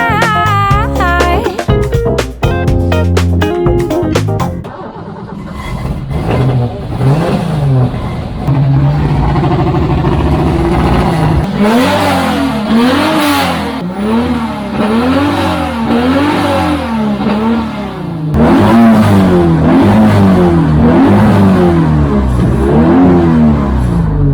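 An Alfa Romeo V6 engine revs hard, rising and falling through repeated sweeps, loud and close, after a brief burst of music at the start.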